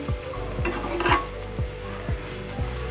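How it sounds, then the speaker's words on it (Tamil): Mashed fish podimas stirred in a pan, regular spatula scrapes about every half second over a steady low sizzle, close and fairly loud. "நல்லா இப்படி போட்டு கிளறிட்டு"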